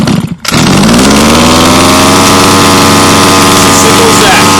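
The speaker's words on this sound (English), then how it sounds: "We're going to pull the pull start just a couple times until we hear it fire." A Baja 5B RC car's small petrol engine catches after a brief pull-start tug and settles into a loud, steady, buzzing run close by.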